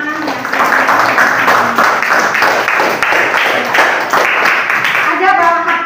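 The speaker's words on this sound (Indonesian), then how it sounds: "kita beri dulu tepuk tangan untuk beberapa teman" A school class applauds classmates, a burst of brisk, fairly close hand clapping from many children that holds steady for several seconds, with some voices mixed in beneath it.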